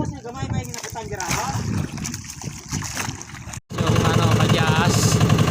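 Fishing boat engines and water noise on open sea, with people talking over a steady rumbling drone that grows louder after a brief dropout.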